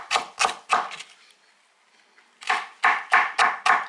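A knife chops through an onion on a cutting board in quick sharp strokes, three cuts, a short pause, then five more in a steady rhythm, close and clear.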